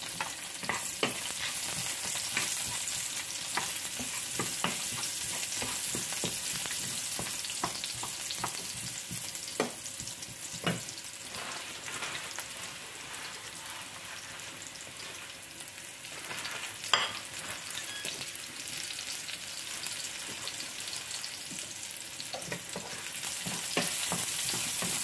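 Onion frying in a pan for a German-style dinner, a steady close sizzle with scattered crackles and occasional stirring clinks, continuous and fairly loud throughout with no talking.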